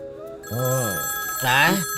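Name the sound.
telephone ringing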